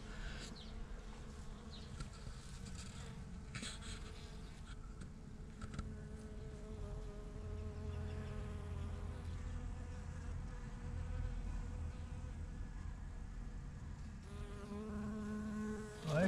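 Bees buzz steadily while gathering pollen from epiphyllum orchid cactus flowers, a dense close insect drone with overlapping wingbeat tones that rise and shift as individual bees move near, continuing throughout.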